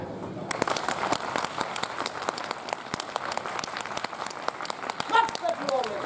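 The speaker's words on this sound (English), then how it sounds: "optimal clapping is achieved by aligning one's hands at a 45-degree angle like so" An audience at a Renaissance faire queen's court performance claps together, a dense, steady patter of many hands lasting several seconds, with a voice briefly heard near the end.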